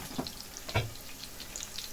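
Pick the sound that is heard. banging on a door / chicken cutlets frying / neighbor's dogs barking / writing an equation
chicken cutlets frying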